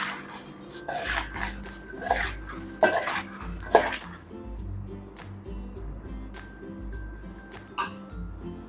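Dry bhel chivda ingredients are mixed in a bowl, giving loud, close clinks and scrapes of a spoon against the dish in uneven bursts, then quieter stirring with occasional knocks.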